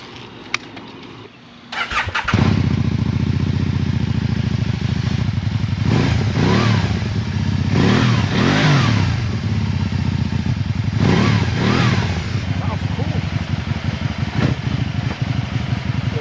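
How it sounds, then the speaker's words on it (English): A Can-Am Spyder RSS fitted with an HMF Racing exhaust cranks and fires up into a loud, close idle, then gives several throaty revs that rise and fall over a steady rumble. "We're about to start this bad boy up."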